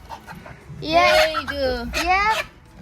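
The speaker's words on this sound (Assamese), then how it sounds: "এইফালে এইটো মুৰ্গী" A hen at a home during Uruka festival preparations gives two loud, close squawking clucks in quick succession over a quiet background.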